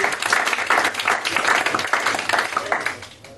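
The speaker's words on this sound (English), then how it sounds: "give this gentleman a round of applause to go back in it" An audience at a live show breaks into sustained applause, dense and loud at first, then tapering off toward the end, with no voices above it.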